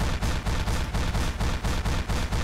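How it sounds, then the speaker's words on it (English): Rapid, evenly spaced blasts from the C4 explosive in the video game Mercenary Kings, a steady pulsing chain of loud booms repeating about every quarter second with no pause. "C4, place, boom!"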